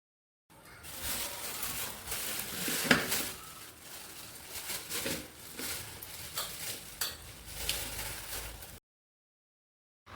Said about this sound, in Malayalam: സിങ്കൊക്കെ നല്ലോണം ഒന്ന് തേച്ച് കഴുകി പാത്രങ്ങളൊക്കെ കഴുകി വെക്കട്ടെ.